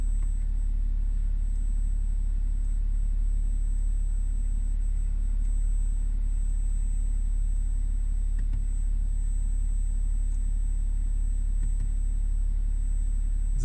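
A parked BMW X6 40d diesel idles in one place with a steady, low, continuous rumble and a faint high whine over it, unchanging and without any voices.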